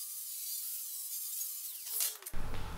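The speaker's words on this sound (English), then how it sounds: "I like these for just cleaning out the ends of the tube too, because it doesn't dig into the metal at all." A rotary tool cleaning out the end of a steel tube for a roll cage, a thin high whine running steadily, then a brief scrape as it bites before giving way to a harsher rumble.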